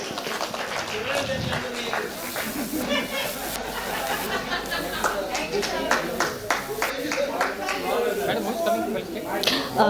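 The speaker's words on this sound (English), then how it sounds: "a round of applause, please" An audience applauds at an event launch, with scattered claps over a steady crowd murmur and voices talking throughout.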